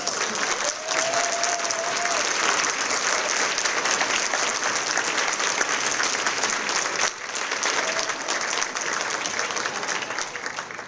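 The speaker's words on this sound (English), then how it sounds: "we'd like to give you a round of applause for your ongoing contribution" An awards luncheon audience gives a long, sustained round of applause for past award winners, thick even clapping from a large room lasting around eleven seconds, with a brief dip midway.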